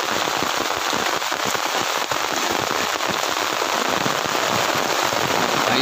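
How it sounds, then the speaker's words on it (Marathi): Heavy monsoon rain pours down in a village, a dense, even roar of drops hitting surfaces, loud and unbroken with no voices. "खूप मोठ्याने पाऊस पडत आहे."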